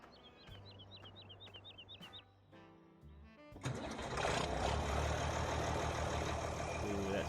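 A Ford tractor engine in a farming video game idles at a steady low rumble, then runs up louder and rougher partway through and keeps droning; faint bird chirps sit over it early on.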